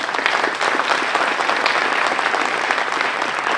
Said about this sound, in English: Let's give some perspective to the students and also give them a round of applause.